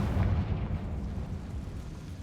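A Confringo spell goes off in Hogwarts Legacy as a dull, rumbling blast, a low-heavy roar that fades slowly over a couple of seconds.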